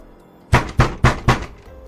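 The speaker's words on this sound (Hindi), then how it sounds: "एक दिन अचानक से आधी रात को मेरे बगल वाले कमरे का दरवाज़ा कोई बहुत तेज़ से पीटने लगा" Four loud, heavy bangs strike a room's door at midnight in a haunted hostel, evenly spaced about a quarter second apart, close and sharp against near silence.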